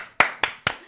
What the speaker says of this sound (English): Give her a clap, guys.